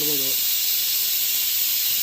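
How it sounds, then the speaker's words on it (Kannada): A pressure cooker cooking biryani releases steam in a loud, continuous hiss, with a brief voice heard at the start. "ಕುಕ್ಕರ್ 4 ವಿಷಲ್ ಆಯಿತು."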